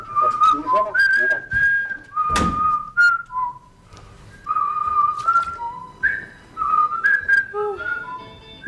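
A man whistles a wavering, melodic tune close by, phrases of bright sustained notes broken by short pauses and a soft knock.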